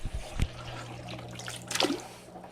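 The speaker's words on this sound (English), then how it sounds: "And I've gone and spilled more water." Water sloshes and spills from a bucket being carried indoors, making a short splash and a few scattered drips and trickles, fairly close and not very loud.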